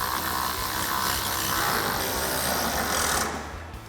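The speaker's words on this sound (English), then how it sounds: "we'll take our T15 torque socket to tighten these down" A T15 Torx socket on a power driver spins tail light screws on a 2014-2018 Silverado 1500 with a steady high whirring buzz lasting about three seconds before it tapers off, close and alone.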